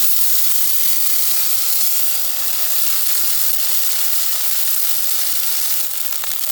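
Spices frying in hot oil for a cauliflower and egg dish give off a loud, steady, close sizzling hiss that continues without a break.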